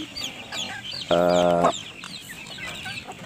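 Free-range village chickens cluck on a simple farm. One bird gives a loud, drawn-out call in the middle, and softer clucks and chirps from the flock continue around it.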